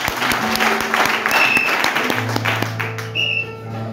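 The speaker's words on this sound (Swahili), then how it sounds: "Pigia Yesu makofi." A church youth congregation claps together in a steady burst of applause, fairly loud and close, with a sustained musical tone from a keyboard or instrument joining partway through.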